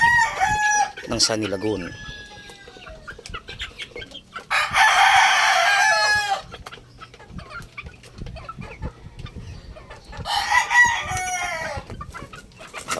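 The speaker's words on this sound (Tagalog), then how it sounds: "Ang gray ay Duke Halsey Gray ng AEJ cross to Bruce Barnett" Duke Halsey Grey gamefowl rooster, an AEJ cross, crowing twice in long loud calls several seconds apart, with a voice speaking briefly between them.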